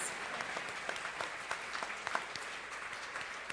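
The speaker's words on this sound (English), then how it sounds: "I think we ought to give our first pitchers such a big round of applause." Steady clapping from an audience at a Jewish schools awards event, moderately loud and continuous throughout with distinct individual claps standing out.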